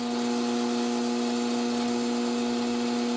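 Steady motor whine of a machine running a center drill into metal with plenty of cutting oil, making a starting dimple for a drill bit on a dimple die for a riv-nut; continuous and fairly loud, no talk.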